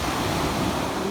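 Ocean surf washes onto a beach at Ocho Rios, Jamaica, a steady, loud, broadband rush of breaking water with some wind noise and no voices.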